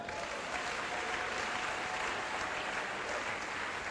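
A church congregation breaks into loud, sustained applause at a sermon, a dense wash of clapping that holds steady throughout with no clear speech on top.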